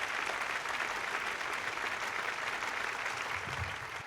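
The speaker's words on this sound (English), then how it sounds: "Please give a big round of applause for the next act." Sustained applause from a comedy club audience greeting the next stand-up comedian, steady and loud throughout, slightly fading near the end.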